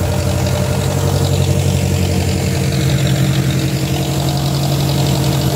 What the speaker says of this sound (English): this is the tractor that I plow with.